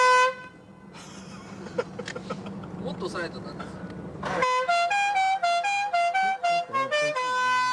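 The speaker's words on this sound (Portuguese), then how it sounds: "customizavam a buzina das motos para de repente tocar alguma música que eles se identificavam" A customized motorcycle horn plays a melodic tune in loud, bright tooting notes, following a stretch of street noise and clatter with talk mixed in.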